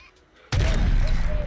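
A loud sniper shot in Call of Duty on Rebirth Island cracks out abruptly after a quiet moment, followed by a sustained rumbling, reverberant tail of game gunfire and explosions.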